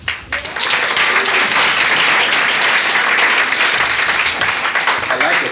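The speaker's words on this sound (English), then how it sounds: "I like the clapping." Wedding guests applaud a toast with loud, sustained clapping that holds steady for several seconds before tapering at the end.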